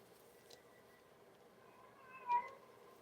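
A female cat meows in a house, calling for a male cat with a soft, drawn-out yowl near the end, preceded by a faint shorter cry, over a quiet room background.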